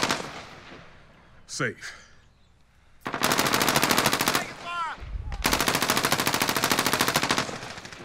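Rapid automatic gunfire from Call of Duty Warzone sounds in two long, loud sustained bursts, with a sharp earlier shot and whooshing effects. Players talk briefly between the bursts.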